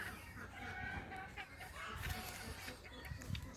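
Local chickens clucking inside a permanent poultry house, scattered faint clucks and calls from several birds over a steady background hum, with some indistinct voice-like sound mixed in.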